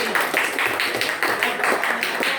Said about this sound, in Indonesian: beri tepuk tangan dulu untuk Suci Maharani